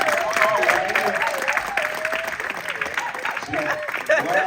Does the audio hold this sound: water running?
no